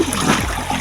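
People swimming in a river make water splash and churn. The sloshing is loud and close, with a stronger splash near the middle, in one brief continuous burst.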